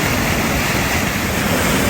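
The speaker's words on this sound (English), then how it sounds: "This is the river that feeds into the waterfall." Steady, dense rush of a river flowing toward a waterfall in Cornwall, a continuous broadband roar with no breaks, loud and close, no voices.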